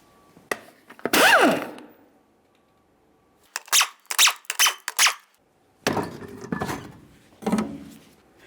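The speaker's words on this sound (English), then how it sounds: "Continue on with removing all 5 of your 19mm lug nuts and then the wheel." Lug nuts (19 mm) and a rear wheel come off a 1998-2011 Ford Ranger: several bursts of metallic clanking, scraping and rattling, close up, separated by short quiet gaps, with no talk.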